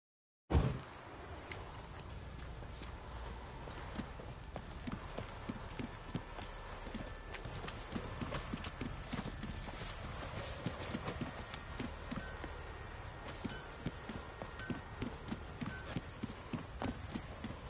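Horses galloping in The Witcher 3 video game, a rapid, steady clip-clop of hooves that starts abruptly and runs close and loud throughout, with no speech.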